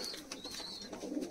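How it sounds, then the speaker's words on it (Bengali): A golden high-flying pigeon of Pakistani bloodline in a loft gives soft, faint coos, with a brief higher chirp-like tone and light background noise. "এবারে তোমাদেরকে দেখাচ্ছি গোল্ডেন পায়রা"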